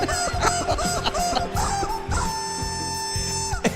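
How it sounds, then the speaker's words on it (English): A song performed with squeaking rubber chickens, their rapid squawking honks forming a melody over a steady sustained tone, loud, close and continuous, with no voices. "this guy making these songs with those rubber chickens"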